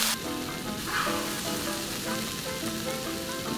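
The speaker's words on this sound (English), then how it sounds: "After an absurd amount of batoning, we get them into that pan. Again, high heat. Cook them up for a few minutes." Fajita meat sizzles steadily in a pan over high heat, a dense, crackling fry that stays close and constant throughout with no talk.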